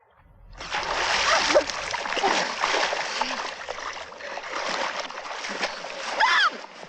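A fast-running river with continuous rushing, splashing water from swimmers working against the current, close and loud throughout, with faint voices mixed in.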